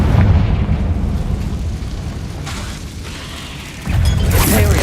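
Confringo fire spell exploding against a barricade in the video game Hogwarts Legacy, a loud, heavy booming blast with a rumbling tail, followed by a second burst near the end.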